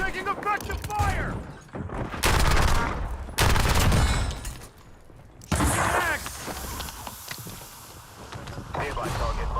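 Loud bursts of automatic gunfire in Call of Duty: Warzone come in several separate volleys with short gaps between them. Game voice lines and callouts sound among the shots.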